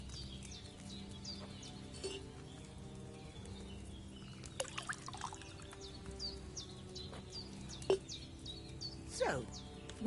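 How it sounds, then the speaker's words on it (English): Wine poured into a cauldron in a video game, a faint trickling pour under game ambience with scattered chirping bird calls and a few sharp clicks, no talking. "what did you pour in there? Wine, of course."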